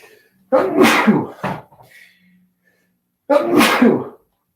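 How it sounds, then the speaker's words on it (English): A person sneezes twice, each sneeze a sharp, loud, close burst with a short lead-in breath, separated by a few seconds of near silence. "I think I'm going to sneeze one more time though"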